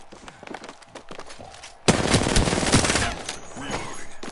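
Video game gunfire: a few scattered shots, then a sudden loud burst of rapid automatic fire that fades after about a second, close and dense, with no talking.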